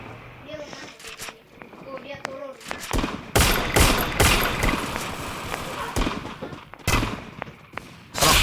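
Rapid gunfire from the Free Fire battle royale game crackles in loud bursts and single shots, with footsteps and players talking between and over the shooting.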